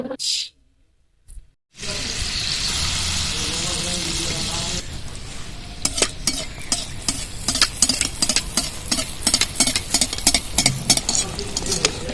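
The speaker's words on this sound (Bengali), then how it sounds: "এইভাবে প্রত্যেকটা মালপোয়া ভেজে নেবো" Ripe mango malpua pancakes frying in hot oil: a short quiet gap, then a steady loud sizzle that gives way to rapid crackling pops and scraping as they cook.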